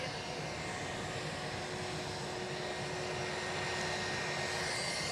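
An aircraft engine drones steadily at Edinburgh airport, a broad continuous roar with a faint whining tone, loud and unbroken throughout, with no talk.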